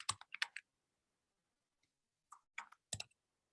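Bursts of typing on a computer keyboard during a Zoom meeting, with clusters of sharp key clicks at the start and again near the end, separated by quiet; close and clear, with no voices heard.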